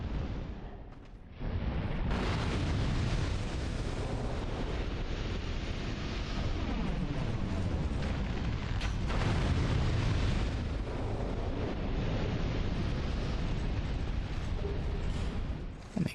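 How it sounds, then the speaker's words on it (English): After a short lull, Black Firebomb explosions in Dark Souls II: Scholar of the First Sin set off a loud, continuous fiery roar with deep rumbling and crackling bursts that holds to the end. "Makes sense, Black Firebomb."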